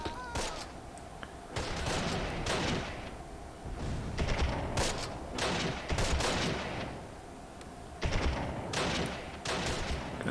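Rifle fire from a video game battle around St. Marie du Mont, with a team dug in at a hedge: loud, close, repeated sharp shots and clustered bursts that rattle on through the whole stretch, layered over a steady din of combat.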